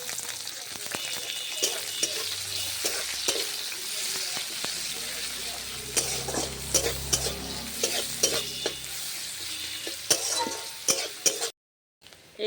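Chopped onion frying in a pan, stirred in repeated scraping strokes over a steady close sizzle, with a brief pause near the end.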